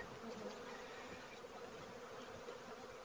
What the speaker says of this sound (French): J'ai des abeilles sur les 10 cadres.